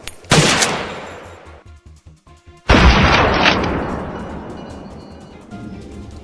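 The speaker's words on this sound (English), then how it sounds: "A swift, cold-blooded opening shot kicks off today's challenging hunt." Two loud rifle shots ring out during a wild hog hunt in forest, each a sharp blast followed by a long rolling echo that slowly fades.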